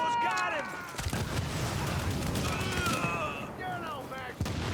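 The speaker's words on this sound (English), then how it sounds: "It's funny that that explosion also blows up like car tires and stuff" A video game explosion that also blows up car tires, heard as a loud rumbling blast with sharp cracks and a short later pop, under overlapping talk from people in the room.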